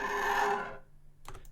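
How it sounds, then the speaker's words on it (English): A knife dragged across a metal table, a bright rasping scrape lasting under a second that fades out, followed by a short faint clatter. "what this sound is, it's a knife being pulled across a metal table"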